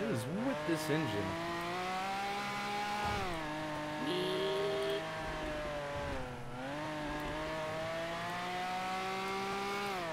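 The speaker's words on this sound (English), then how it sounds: "What is with this engine?" A van's engine idles and runs in a GTA NoPixel role-play game, giving a loud, steady droning hum that dips and rises in pitch a few times over the whole stretch, with faint background noise.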